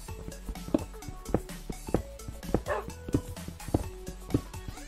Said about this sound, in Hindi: अरे कुत्ता गिर गया लॉल